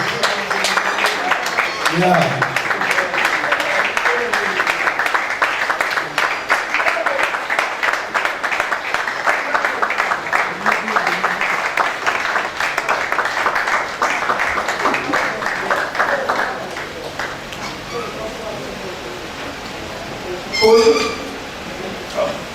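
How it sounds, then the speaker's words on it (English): An audience at a school reunion keeps up sustained, dense clapping for many seconds, thinning out near the end as a voice speaks briefly over it. "Please continue clapping."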